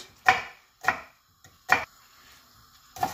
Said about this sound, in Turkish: Küçük küçük yemeklik doğruyorum.